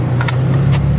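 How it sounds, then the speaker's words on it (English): A car passing on a road beside a Nissan 370Z, a steady low engine drone with a brief whoosh, close and fairly loud, lasting about a second. "Now there's a car going by"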